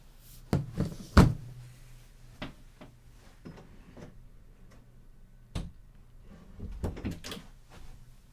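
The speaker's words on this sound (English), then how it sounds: "The door just opened." A door opens on its own in a quiet dark room: a few sharp knocks and clicks, one louder thump near the start, then scattered faint creaks and taps, with no voices.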